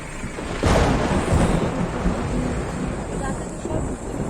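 Thunder rumbling during a night storm in Simlipal forest: a deep, broad roll rising after a sharp onset, under steady rain and wind noise on the microphone.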